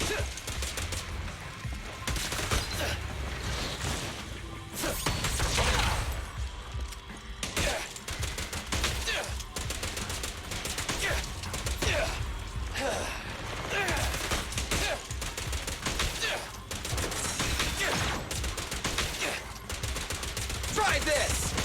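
Repeated gunfire bursts thump and crackle in a desert motorcycle game, a dense, fairly steady volley of shots under a noisy mix with occasional spoken lines.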